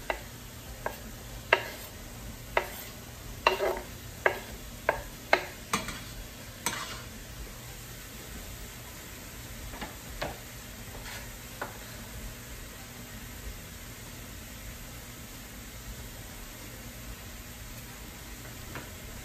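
Onions sizzle in a pan with a steady frying hiss, while a utensil stirs and taps the pan several times early on, close and moderate in level.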